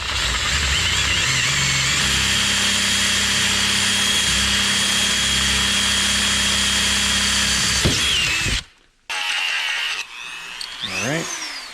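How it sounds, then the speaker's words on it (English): A power drill bores through aluminum pieces, giving a loud, steady high whine with a low motor hum that runs unbroken for several seconds, then cuts out briefly and restarts in short bursts that wind down. "That way I only have to drill a hole once."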